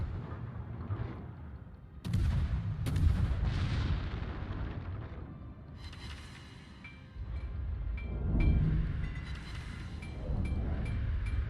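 Naval guns firing at a Shimakaze destroyer in the World of Warships video game: several heavy booming salvos with rumbling decay, a pair of sharp blasts early on, then sustained low roars and faint tonal game effects.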